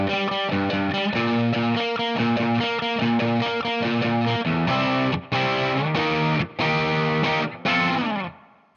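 Distorted electric guitar plays the pre-chorus of a song in octaves, starting with steady chugging notes and then breaking into held phrases separated by short stops, loud and up close, with no talking.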